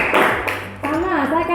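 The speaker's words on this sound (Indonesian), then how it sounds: "tepuk tangan dulu dari teman-teman" Classmates clap for a group's presentation in a classroom, a brief burst of hand claps mixed with a voice talking over it.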